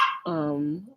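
A single dog bark, a short sharp yelp sliding into a sustained tonal bark, close and clear.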